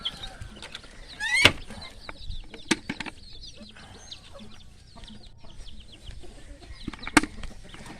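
Chickens, both grown birds and chicks, cluck and call in a farmyard before feeding, with scattered short cries and a couple of sharp louder calls standing out over a low, steady background.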